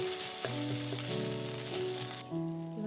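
Spice paste of ginger, cumin and pepper sizzling in a pan for a paneer dish, a soft steady fry with faint crackles, overlaid by sustained tonal hums that shift partway through, with no speech.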